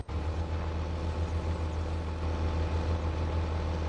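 A tractor engine revving high in a farming game, a steady loud low drone held continuously without letup.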